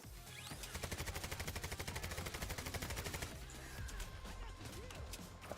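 Rapid automatic gunfire from a heist shooter game, dense sustained bursts of bullets with a steady rattling rhythm, loud and close, shifting into a rougher barrage partway through.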